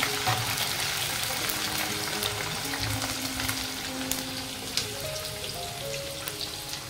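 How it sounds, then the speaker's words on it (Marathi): Sliced onions frying in a pan of hot oil with whole spices, a steady close sizzle and crackle running throughout without a break. "थोडा कांदा ठेवते, मला फ्राय करायचा आहे"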